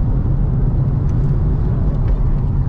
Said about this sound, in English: The turbo chatter, isn't it?